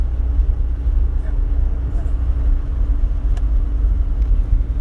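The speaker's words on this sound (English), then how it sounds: "So yeah, that was the 964 turbo. Beast of a car." A Porsche 964 Turbo cruising in fifth gear at low speed, its steady, loud engine and road rumble droning continuously from inside the cabin without a break.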